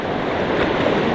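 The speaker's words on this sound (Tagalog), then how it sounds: "Yan, ang lakas ng alaw. Agos." Strong surf and fast-moving water current rush in a steady, loud, close broadband roar with no break for the whole moment, with no voices.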